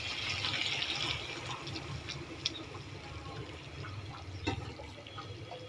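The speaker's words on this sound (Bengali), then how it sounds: "আমি এখন ঝোল দিয়ে দেবো।" Meat broth is poured into a pot of biryani meat while it cooks, a steady liquid rush with a brighter splash early on and a few clinks, close and moderately loud.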